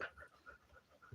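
Thirteen-year-old dog panting quietly outdoors in a rural setting, with soft whimpering breaths in a steady rhythm, faint and close.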